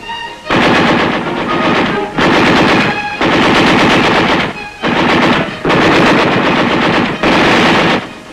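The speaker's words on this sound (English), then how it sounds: "The enemy fire is returned by our forces with devastating effect." Machine guns fire from tanks in combat in long, loud sustained bursts of rapid shots, about six in a row, separated by brief pauses.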